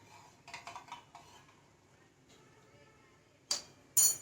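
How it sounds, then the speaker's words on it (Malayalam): Cornflour mixture being stirred into banana leaf halwa in a pan, with a few close, light clinks and scrapes of a spoon against the metal, then two sharper knocks near the end. "നമുക്ക് കോൺഫ്ലവർ ഒഴിച്ചതിന് ശേഷം നമ്മൾ ഇളക്കി കൊണ്ടേ ഇരിക്കണം കേട്ടോ"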